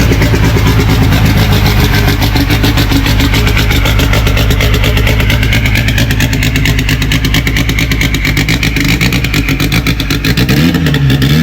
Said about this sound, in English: just wanted to see what the cold start was going to do on that thing